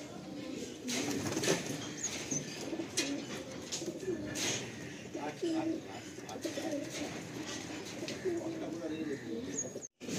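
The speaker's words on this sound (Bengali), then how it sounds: "তো এই জোড়া রয়েছে পায়রা, দেখতে পারেন।" Soft, repeated coos from a breeding pair of Madrasi pigeons at a loft murmur through a busy outdoor background, with occasional chirps and faint voices nearby.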